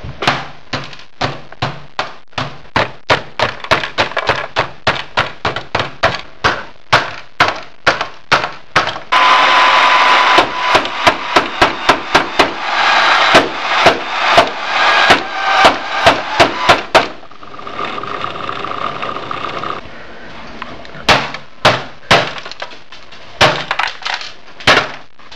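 Repeated hard hammer blows smash a printer's brittle plastic and metal, sharp cracks in rapid irregular bursts with brief pauses, ending in a few scattered final strikes.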